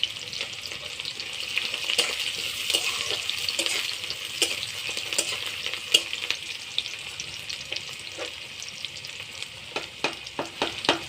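Chopped onion and garlic sizzle steadily in hot oil for a Bengali prawn and taro-leaf dish, with a dense continuous crackle broken by occasional sharp pops and spoon scrapes, close and fairly loud, no talking.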